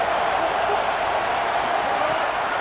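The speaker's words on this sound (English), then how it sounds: "this crowd is getting behind this defense" A stadium crowd in the College Football video game gives off a steady, dense wash of cheering and roaring, loud and even with no breaks, like a distant mass of fans.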